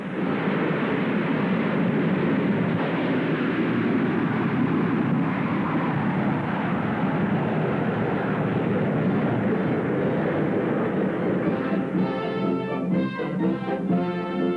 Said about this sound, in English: Eisenhower is also present as the giant XB-47 bomber roars into the air.